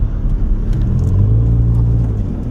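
A truck rumbles past at close range, its low engine drone swelling steadily across the whole stretch with no voices over it, heard from outdoors during a morning of bow-season hunting.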